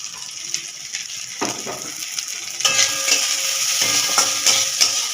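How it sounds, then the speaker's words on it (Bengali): Thor (banana stem), pumpkin and bori dumplings fry in a pan over high heat, giving a steady close sizzle broken by scraping stirs and clinks of a spoon against the pan. "আঁচটা আমি জোরে দিয়ে ভাজছি।"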